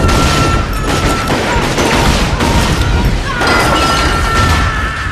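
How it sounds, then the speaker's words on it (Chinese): A liquor store erupts in fire after a kerosene-soaked paper is thrown inside, in the film From Dusk Till Dawn; a loud, sustained roaring blast with crackling debris fills the whole stretch. "真男人从不回头看爆炸"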